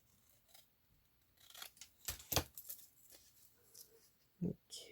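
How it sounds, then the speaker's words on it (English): Scissors snip through paper up close while a paper pocket is cut out, making several crisp cuts and rustles of uneven loudness, with no speech. "I'll cut one half of it out and fold it so it's matching."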